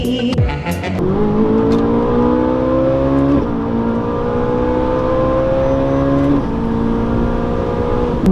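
A 2011 Ferrari 458 Italia screams through repeated rising revs, its high-pitched engine climbing in long pulls with brief drops between shifts, loud and close throughout.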